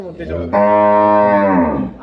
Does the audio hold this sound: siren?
no